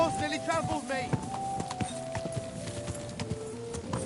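Horse hooves clip-clop in a steady trotting rhythm in the medieval game Kingdom Come Deliverance 2, close and clear, with a voice calling out over the hoofbeats.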